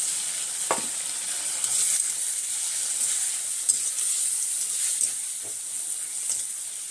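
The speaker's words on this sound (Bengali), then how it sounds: "এই পর্যায়ে আমি দিয়ে দেবো দুটো টমেটো কুচিয়ে আমি রেখেছিলাম, টমেটো দুটো দিয়ে দেবো" Chopped tomatoes sizzling in a pan of fried onions for a soybean curry, a steady bright hiss with a few soft stirring knocks throughout.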